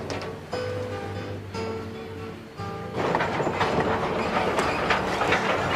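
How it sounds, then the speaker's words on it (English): Train wheels on the Mt. Rainier Scenic Railroad clacking over rail joints with a steady rhythm, joined by sustained tonal squeals and hums from the rolling cars, growing louder and busier partway through, no talk. "the clickety-clack of the tracks, the creaking of the cars"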